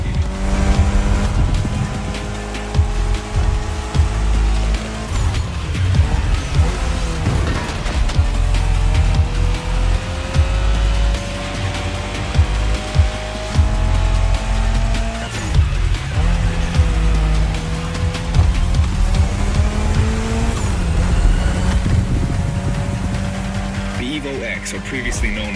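Toji's customized Mitsubishi Lancer Evo X from The Crew Motorfest drives steadily with a loud engine drone that shifts pitch through gear changes and revs, heard continuously under someone talking.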